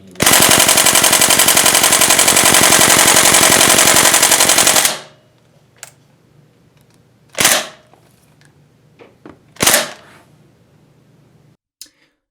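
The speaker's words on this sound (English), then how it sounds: "there's the Daytona gun chronoing. As you saw, the full auto is a little all over the place." Daytona gun fired on full auto through a chronograph: a loud, rapid burst of shots lasting about five seconds, then a few scattered single shots and faint clicks.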